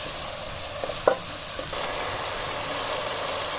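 Masala with grated tomato pulp sizzling in a pan, a steady close frying hiss with a few brief spoon knocks and stirring scrapes near the start.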